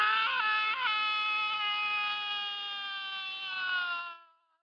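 A meat puppet enemy in Psi Ops screams, one long high wavering shriek lasting about four seconds, loud and close, trailing off abruptly at the end with no talk over it.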